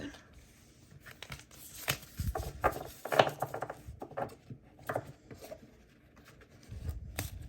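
A deck of tarot cards is shuffled and handled in short papery bursts, quiet and close, with soft crinkling and rustling between the riffles.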